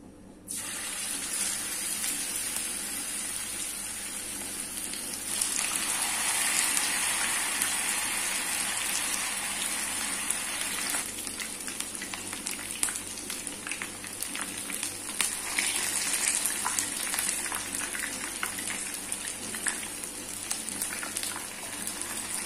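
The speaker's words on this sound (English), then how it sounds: "The oil is hot. Now we will start frying." Marinated chicken pieces fry in hot oil, giving a steady, dense sizzling hiss that swells louder after a few seconds and holds for the rest of the stretch, with no talk over it.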